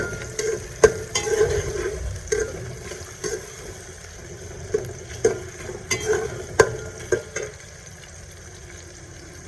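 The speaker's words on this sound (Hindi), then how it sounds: "प्याज फ्राई होंगे तो फिर इसमें चिकन ऐड करेंगे" Onions for karela gosht fry in a hot pan as a spoon stirs them, giving bursts of scraping and clanking over a low sizzle, close and moderately loud, with no voices.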